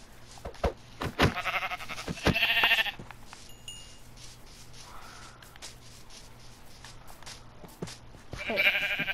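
Sheep in the Minecraft video game bleat in short wavering calls, several at the start and another near the end, over quiet clicking and game ambience.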